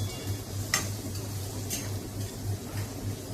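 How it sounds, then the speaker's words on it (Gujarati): Moong beans being sautéed briefly in a pan for poha, giving a soft, steady frying hiss with light stirring and a couple of faint utensil clinks, close by and with no voices. "મગને 1 જ મિનિટ માટે ફટાફટ સાતળી લેવાના છે"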